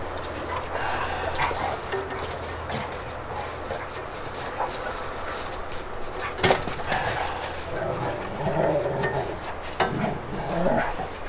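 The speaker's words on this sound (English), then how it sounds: "That's the dogs wrestling" Dogs wrestling nearby, with scattered barks, yips and whimpers over scuffling and a constant low rumble, the noises rising and falling irregularly.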